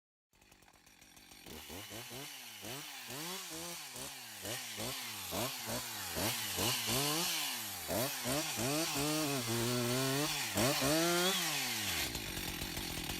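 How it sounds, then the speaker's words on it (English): A chainsaw revs repeatedly, its engine pitch rising and falling in a rapid rhythm as it cuts into wood, loud and close throughout. "this method involves a chainsaw"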